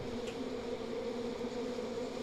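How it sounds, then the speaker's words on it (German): Wasps or hornets buzzing in the video game Far Cry 5, a steady, fairly loud droning hum that holds without a break, with no talk over it. "Wespen? Hornissen?"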